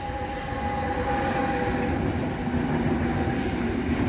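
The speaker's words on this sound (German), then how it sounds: "denn dort hinten kommt die TX Logistik 185 mit einem Mastzug und Sattelaufliegern und Containern drauf." A TX Logistik class 185 electric locomotive hauls a mixed freight train of semi-trailers and containers through Würzburg Hauptbahnhof, a loud, continuous rolling rumble with a thin tonal whine riding over it.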